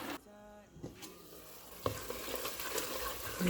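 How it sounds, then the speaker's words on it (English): A spoon stirs thickened efo riro pepper stew in a pot, the oil sizzling faintly beneath scattered scraping strokes and a few sharper knocks against the pot. "Continue stirring this one."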